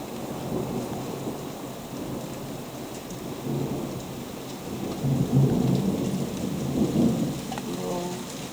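Thunderstorm on the east coast of Scotland in July, steady heavy rain pouring down with deep, rolling thunder rumbling underneath and swelling louder toward the middle, no voices.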